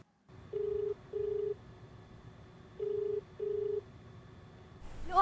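A telephone call home, heard as a quiet handset line with four short electronic tones in two pairs and then a brief rustle at the end.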